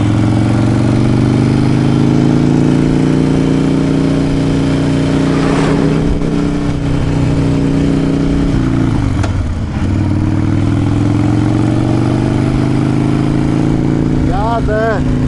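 A motocross bike engine drones loudly and continuously while being ridden, its pitch rising and falling with throttle changes and occasional revs.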